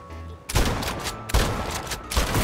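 Gunfire in the mobile game City of Outlaws: three loud bursts of rapid shots, each cutting in sharply and trailing off, spaced under a second apart.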